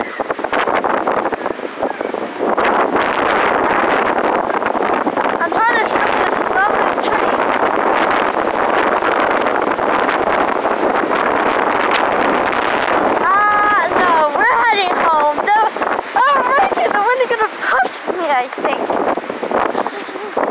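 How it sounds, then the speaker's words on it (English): Strong outdoor wind buffets the microphone in loud, continuous rumbling gusts for the full length, with a person's voice faintly audible beneath the roar in places. "This is how bad this wind is."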